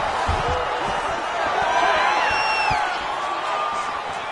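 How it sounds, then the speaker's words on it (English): A crowd at a fight cheers in appreciation after a grueling ground battle, its noise steady and loud across the arena with whoops rising over the din, and commentary voices talking over it. "the crowd pops in appreciation as the fighters..."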